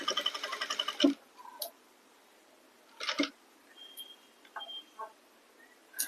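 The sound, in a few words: sewing machine stitching a blouse seam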